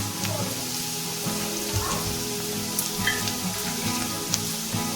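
Onions with salt frying in a pan for a prawn pepper fry, a steady close sizzle with scattered crackles and pops throughout, no one speaking.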